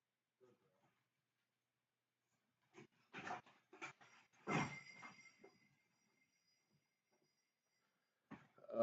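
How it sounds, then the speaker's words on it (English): A dog pants and whimpers indoors in scattered short bursts, close and fairly quiet, separated by stretches of near silence. "Let my other dog in."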